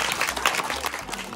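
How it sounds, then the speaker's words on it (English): A small class of young pupils gives a burst of scattered hand clapping for a classmate during an English lesson, brief and close, with a little background chatter. "Clap for Vanessa."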